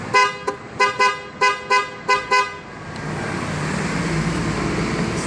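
Dual contact horn on a Euro Model T150 gives six short, loud, evenly spaced toots, then a steady roadway or engine rumble takes over.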